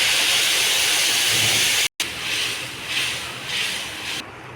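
Water is poured into a hot pan of fried soybean chunks with potato and papaya, and a loud, close hiss of steam fills the whole stretch. The hiss stops briefly for a moment, then returns in swelling waves.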